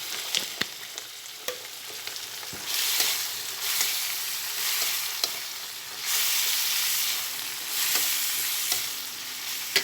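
Vinegar added to chow chow (chayote) pickle in a pan, with a steady close sizzle and repeated stirring scrapes that swell in bursts, no talk.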